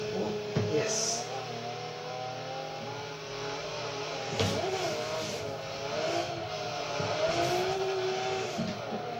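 Rear-wheel-drive car drifting around the Maple Valley track in Forza Motorsport 3, engine droning steadily with revving surges and brief tire noises throughout, a voice talking intermittently over it.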